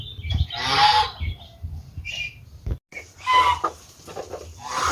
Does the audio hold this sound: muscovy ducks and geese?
yes